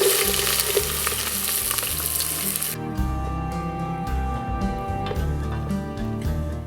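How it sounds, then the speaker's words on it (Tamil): A large chopped onion sautés in hot oil with whole spices for a parotta salna. It makes a loud, continuous sizzle that drops slightly in brightness partway through and then keeps frying steadily up close, with no voices. "இப்போ இந்த ஆனியன் லைட்டாக சாட்டே ஆகி வரப்போ ஜஸ்ட் கொஞ்சமாக நமக்கு தேவையான அளவு சால்ட்டு"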